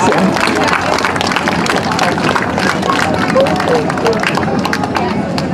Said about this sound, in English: give a big round of applause for Rattlesnake Dave Richardson